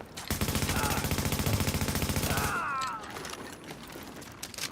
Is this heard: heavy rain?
no